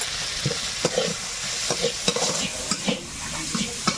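Spice mixture with chopped tomato, salt, turmeric and cumin powder stirred in a hot pan, a faint steady sizzle under repeated sharp scraping strokes of a spoon against the metal, irregular and close.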